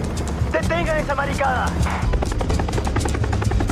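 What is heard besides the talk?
helicopter in a TV series scene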